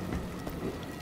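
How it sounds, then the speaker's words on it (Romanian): Steady rain falls outdoors as a soft, continuous wash of patter behind a recording room, faint and even throughout with no distinct drops standing out. "Deci dacă o să auziți ploaie pe fundalul înregistrării audio, să nu vă speriați. Nu e de la joc, e de la mine."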